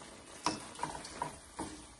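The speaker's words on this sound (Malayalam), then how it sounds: "അവലിട്ട് നല്ലതായിട്ട് ഇളക്കി യോജിപ്പിക്കുക" A spoon stirs flattened rice (aval) into a thickened cooking mixture in a pan, giving a few soft, evenly spaced ticks and scrapes against a quiet background.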